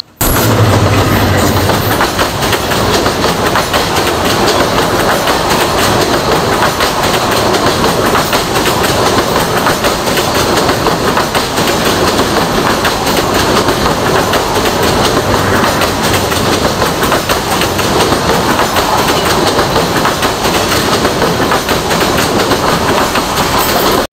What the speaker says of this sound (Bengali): হঠাৎ করে দেখলাম জগ জগ জগ জগ করে ট্রেন আসতেছে